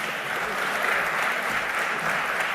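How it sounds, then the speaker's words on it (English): A round of applause welcoming a speaker at a large biotech conference hall, dense and continuous clapping at moderate volume that cuts off abruptly at the end. "Let us welcome him with a huge round of applause."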